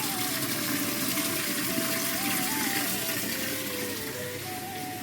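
Water pours steadily into a container at home while clothes are being washed, a continuous close rushing gush with a faint tonal whine running throughout.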